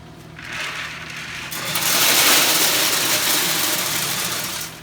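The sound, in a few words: Pit Boss Copperhead pellet grill auger feeding pellets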